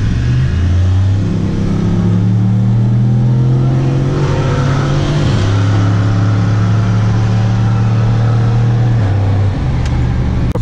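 A Pontiac Grand Prix GXP pulls hard in first gear on a rainy road, its engine droning loud and close and rising steadily in pitch for about nine seconds before easing off.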